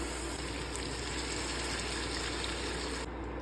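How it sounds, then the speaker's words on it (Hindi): Water gushes steadily into a pot of browned meat and spices, a continuous close pouring rush with no talk over it, cutting off near the end. "पानी डाल दिए"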